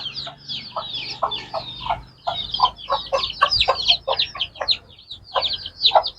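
Several hens cluck and chatter close by in rapid, overlapping bursts, a busy flock calling with only brief gaps between notes.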